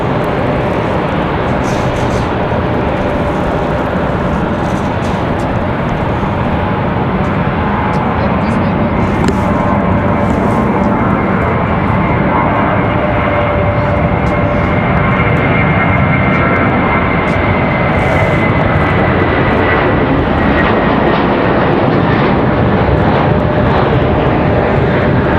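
An airliner departs at Raleigh-Durham International Airport, its loud jet roar swelling and holding for the whole stretch, with a rising engine tone as it accelerates.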